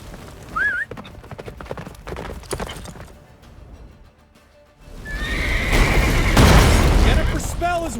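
Roach, Geralt's horse in The Witcher 3, gallops with pounding hooves and a whinny, with booming blasts from a blizzard and battle building loudly toward the end while voices speak over it.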